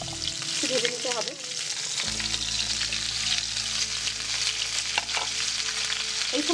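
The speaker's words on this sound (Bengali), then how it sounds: "ফুলকপি আলুটা দিয়ে একটু ভেজে নিতে হবে।" Cauliflower florets and potato pieces fry together in a pan for a Bengali cauliflower and tangra fish curry, with a loud continuous sizzle and spatula scrapes and stirring, no talking.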